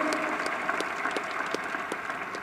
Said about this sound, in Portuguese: Vamos aplaudir, quem merece